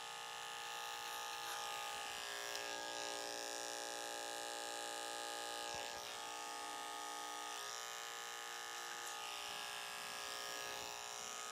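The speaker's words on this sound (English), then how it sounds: "there's very minimal blending to do when you use a detachable blade clipper" A detachable blade hair clipper buzzing steadily while cutting hair, a faint continuous electric hum with slight changes in pitch as it moves, and no talk.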